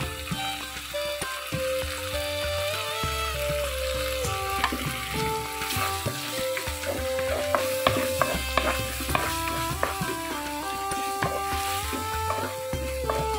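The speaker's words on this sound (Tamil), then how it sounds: "மிளகுத்தூள் போட்டு நல்லா கிண்டி விடுங்க." Prawn thokku sizzles and fries in a pan while being stirred with pepper powder, a continuous close crackle with scraping stirs running throughout.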